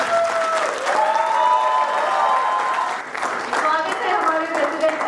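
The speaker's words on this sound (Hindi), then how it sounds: "Big round of applause for JC Monu Jain." An audience at an award function and oath ceremony applauds steadily, with sustained crowd clapping while a voice speaks over it and music tones run beneath.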